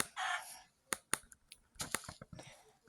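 A Minecraft chicken squawks and clucks in short bursts, with a few sharp hits and flutters around it, fairly close and clear with no talking.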